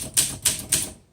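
A 1958 Olympia SM3 manual typewriter strikes three crisp, loud keystrokes at an even pace, each clack ringing briefly before fading into silence.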